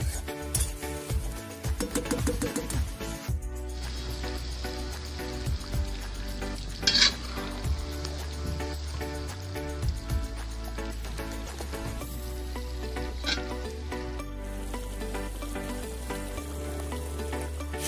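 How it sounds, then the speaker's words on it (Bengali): Chicken pieces frying in a pan and stirred now and then, a continuous sizzle with scraping stirs, a few sharper clatters and music underneath. "আবার একটু নাড়িয়ে দিলাম, নতুন নিচে ধরে যাব।"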